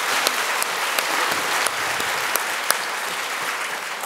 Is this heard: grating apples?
no